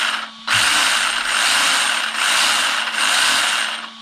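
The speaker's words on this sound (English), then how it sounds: "push the pinion tight against the spur, and then we'll listen for the noise" An RC car's pinion gear, meshed too tight against the spur gear, whines and grinds loudly and continuously as the motor runs, with a harsh ratcheting texture that pulses slightly in repeated surges, close and without talking.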